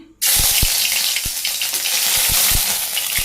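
Ginger dropped into hot oil with cumin seeds bursts into a loud, steady sizzle that starts abruptly and holds, with a few low thuds of stirring underneath.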